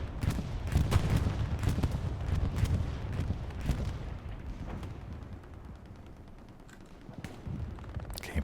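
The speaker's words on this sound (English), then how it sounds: "Bombing run comes in." A bombing run in the World War II shooter Hell Let Loose pounds the battlefield with a dense, continuous barrage of heavy booms and crackling gunfire. It is loud at first, then gradually thins and fades into distant rumbling.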